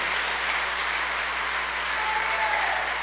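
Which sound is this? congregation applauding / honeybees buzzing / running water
congregation applauding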